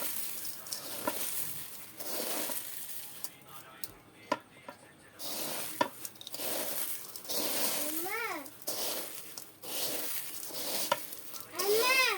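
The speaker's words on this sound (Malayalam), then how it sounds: "തേങ്ങ ശർക്കരയൊക്കെ നമുക്ക് മിക്സ് ചെയ്യാം നന്നായിട്ട്." Grated coconut and jaggery are mixed together in a pan with soft scraping stir strokes and a faint sizzle. Background sounds, including a rising and falling chirping tone, drift in and out at low level.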